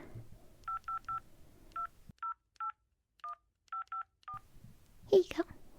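About ten phone keypad dialing tones beep in uneven groups, clear against a quiet background, ending with a brief rustle.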